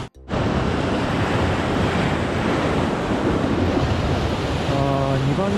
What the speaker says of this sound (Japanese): ちょっと波がやばいです